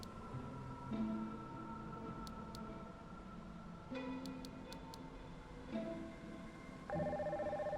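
A phone rings as a call is placed in the video game NieR Reincarnation, giving a series of electronic dial tones and pulsed ringing beeps over a soft musical background. The beeps come in short separate bursts and then settle into a steady repeating ring.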